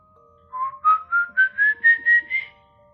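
A human whistle imitating El Silbón of Venezuelan legend rises in pitch over seven short, clear, evenly spaced notes, loud and close with no talking.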